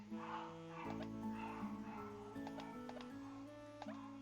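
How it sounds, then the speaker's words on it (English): Dogs barking and yipping in the cooking game Cuisineer, a few sharp barks under steady game music with a faint ticking. "Oh, dogs are going crazy."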